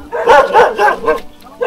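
A dog barks loudly and close by in a quick run of about four barks, followed after a short pause by another bark.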